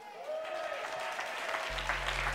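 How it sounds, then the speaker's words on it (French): An audience bursts into sustained applause to welcome a guest speaker at a French-language coaching event, the clapping steady and dense throughout, with a faint voice trailing off at the start. "vous êtes prêts à l'accueillir sur un tonnerre d'applaudissements?"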